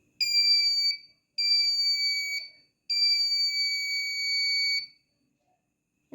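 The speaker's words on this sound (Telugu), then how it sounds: "అలారం మరియు ఎల్ఈడి అయితే వస్తుంది." A piezo buzzer alarm on a homemade touch sensor project with an LED and battery, three loud, shrill beeps of one to two seconds each with short gaps, close and clear in a quiet room.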